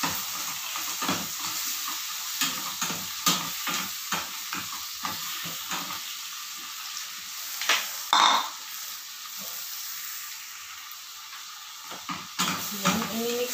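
Shrimp for Filipino shrimp caldereta sizzles in a pan as a utensil scrapes and knocks through it in bursts, then the frying settles into a quieter hiss before the stirring picks up again, all heard close by.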